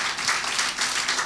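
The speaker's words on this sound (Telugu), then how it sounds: "గట్టిగా చప్పట్లు కొడదాం ఒకసారి, గట్టిగా" Audience clapping loudly at a church sermon gathering, a dense steady burst of applause filling the whole moment with no voices over it.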